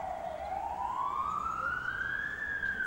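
Wailing emergency siren outside an English hospital, its pitch dipping and then sweeping steadily upward, moderately loud and continuous from start to end, with no talk over it.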